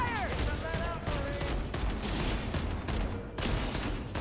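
Pistol fire in the shooter game Halo: Campaign Evolved, dense overlapping bursts of gunfire and battle noise running loud and continuous throughout, with a voice talking beneath.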